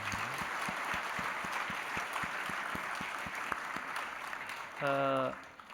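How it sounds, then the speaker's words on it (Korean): A church congregation at a Christmas service claps in a steady wash, with distinct rhythmic claps near the front, before a short voice or instrumental tone rises near the end. "우리 하나님 앞에 큰 영광의 박수 한번 올려드리겠습니다"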